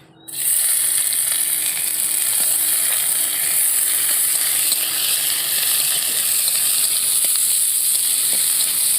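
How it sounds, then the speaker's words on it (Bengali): Chopped onions fry in oil in a wok with a loud, steady bright sizzle that begins abruptly and holds evenly, with faint occasional clicks of stirring underneath. "কড়াইতে আমি তেল দিয়ে দেবো এর মধ্যে দিয়ে দেবো পেঁয়াজ এর মধ্যে পেঁয়াজ কুচি দিয়ে দিচ্ছি"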